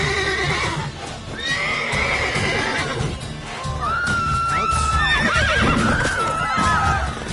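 Loud horse neighs and whinnies repeat over rapid clopping hooves in the video game The Witcher 3, with shouting voices and busy action noise mixed in.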